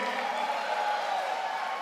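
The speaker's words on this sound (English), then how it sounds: "Please give Kenny Holdsman, hustling Kenny Holdsman, a warm PYB round of applause" Audience applause at a youth sports gala, a steady, even wash of clapping from a crowd filling the room at moderate volume throughout.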